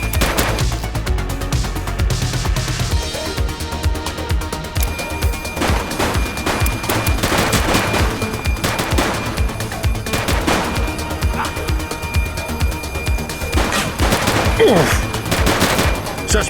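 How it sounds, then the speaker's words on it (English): Sustained gunfire in the police video game The Precinct: rapid, repeated shots and bursts fired close by over a steady, loud background, with faint voices now and then. "Shots fired!"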